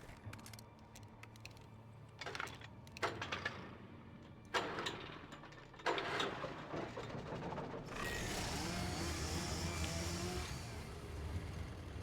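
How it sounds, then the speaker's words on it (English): A chainsaw runs in the video game Alan Wake, first as bursts of revving and then as a sustained, loud roaring drone. "I hear a chainsaw."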